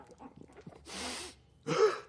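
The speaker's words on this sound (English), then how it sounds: "Your breathing's getting pretty loud." Loud breathing from an animated cartoon character comes as a few short soft sounds, then two heavy breaths close to the mic: a long airy one and, after a short pause, a sharper gasp-like one.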